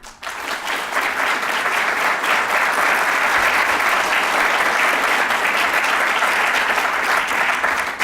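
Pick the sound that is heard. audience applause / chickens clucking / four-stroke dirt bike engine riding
audience applause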